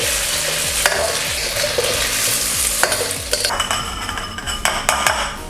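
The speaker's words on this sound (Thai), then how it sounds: "เอาไป ทอดนะครับทอดในน้ำมันร้อนๆนะครับ ให้มัน สุกนิดนึงให้มันกรอบ" Chinese sausage, cut into small bite-size pieces, fries in hot oil with a steady close sizzle, broken by repeated scrapes and clinks of a utensil stirring in the pan; no one speaks.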